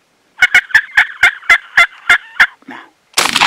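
A wild turkey gobbler sounds off during a spring 2023 turkey hunt, giving about nine sharp, evenly spaced gobbles, loud and fairly close. A short, softer call follows, and then a sudden burst of broadband noise.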